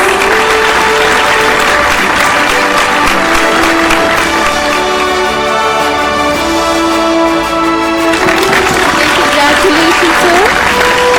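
Sustained applause from an audience at a scientists' award ceremony, steady and dense clapping throughout with crowd noise and some talk over it.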